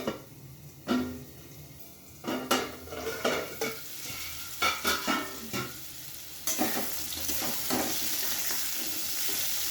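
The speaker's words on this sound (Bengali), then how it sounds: "লবণটা দিয়ে আমি ভালো করে ভেজে নেব। আমি একটু ঢেকে ঢেকে করে ভাজবো।" Salted potato and papaya frying in a pan, a soft sizzle under bursts of utensil scraping and clatter, quiet at first and then building to a fuller, continuous hiss near the end.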